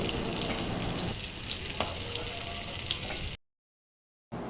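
Spiny gourd (kakrol) fries in oil in a wok, a close, steady sizzle and crackle that cuts off abruptly to silence near the end before briefly resuming.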